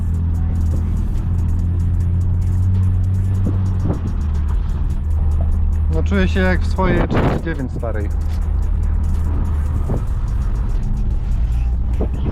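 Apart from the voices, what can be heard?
BMW E39 M50B30 car driving and shifting gears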